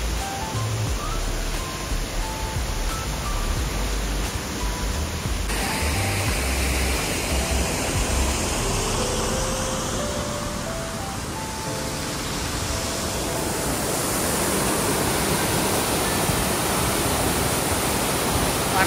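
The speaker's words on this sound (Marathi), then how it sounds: "माझा आवाज कमी येत असेल तर पाण्याचा आवाज जास्त येत असेल" Monsoon waterfall at Malshej Ghat on a foggy mountain road, a steady broadband roar of falling water that holds loud and even from start to finish, with no talking.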